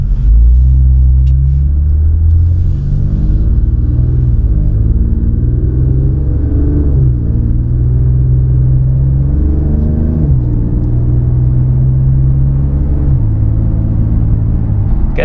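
An Infiniti Q50/Q60 sits stopped in drive with an aftermarket transmission mount, its engine idling as a steady, close low rumble with slight shifts in pitch and no speech over it.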